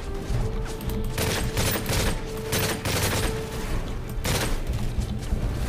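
Rapid bursts of automatic gunfire and booming shots in a Call of Duty Modern Warfare 3 campaign battle, dense and continuous with several heavier blasts over a low rumbling background.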